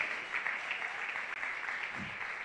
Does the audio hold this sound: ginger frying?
no